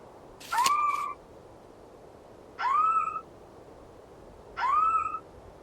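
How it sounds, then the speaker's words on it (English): Plains-wanderer, a critically endangered bird, calling in the Wingspan video game: three separate rising, hooting whistled notes spaced about two seconds apart, clear and close over a low background hiss. "Plains wanderer. This critically endangered bird is the only species in the family"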